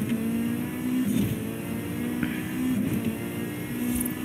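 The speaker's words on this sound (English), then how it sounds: "I love those clicking sound that this car makes when it's changing gear really quickly." Racing car engine droning steadily in Forza Horizon 5, a sustained close hum with faint quick clicks and small shifts in pitch during rapid gear changes.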